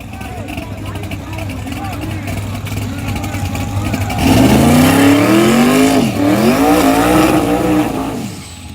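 A twin-turbo car roars through a sideways burnout on a drag strip, engine climbing loud and close, revs rising and falling with a wavering tire-squeal whine over a steady rumble, and voices talk in the background.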